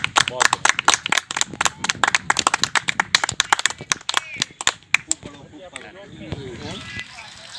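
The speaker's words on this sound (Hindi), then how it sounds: "जोरदार तालियां बजा के हम लोग वैभव का सम्मान करें।" Audience members clap to honor Vaibhav at a community ceremony: sharp, uneven claps from a small crowd ring out close and loud, then thin out into a softer patter with faint murmuring near the end.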